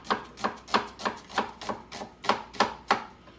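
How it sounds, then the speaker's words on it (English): A knife chops through an onion on a board, about ten evenly spaced crisp cuts in steady rhythm, close and clear with no talking. "Get this onion cut sideways a few times."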